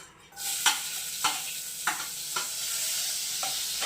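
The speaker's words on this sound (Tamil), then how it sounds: "இப்போ வந்து நம்ம வெங்காயம் சேர்த்திக்கலாம்" Onions dropped into hot oil with cumin: a loud, bright sizzle that starts suddenly and then holds steady, with a series of regular stirring scrapes on the pan, close and with no talking.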